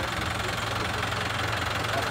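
A tractor engine idles steadily up close, a low, even knocking chug running unbroken throughout at moderate loudness with no talk over it.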